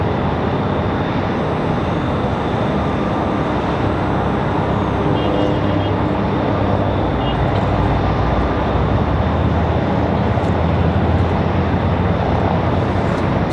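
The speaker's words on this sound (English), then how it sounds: "Our A319's coming down the hill from Philadelphia." An American Airlines Airbus A319 jet arriving from Philadelphia at Raleigh-Durham International, a steady broadband engine roar sustained throughout without speech.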